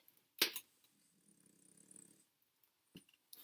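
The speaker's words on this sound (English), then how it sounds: "Puppy's gone back to snoring" A soft, faint snore from a puppy rumbles briefly in near silence, bracketed by a couple of quiet clicks and rustles.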